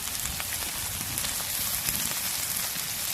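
Cashews and spices with turmeric, salt and slit green chilli sizzling steadily in a hot pan, a dense, even crackle like rain that holds without a break and stays close.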